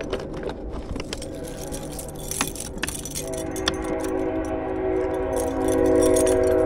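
Metal clips on a fishing stringer jangle and rattle as it is pulled out beside a creek while crappie fishing, a close, continuous clinking over a steady hum that grows slightly louder toward the end.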